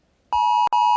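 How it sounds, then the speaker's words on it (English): An iPhone app alarm goes off to signal that the northern lights are visible in Finland: a loud electronic beep tone, a long beep, a short gap, then a second one, alone with no talk. "an application onto my iPhone that would alert me with an alarm when the lights were visible"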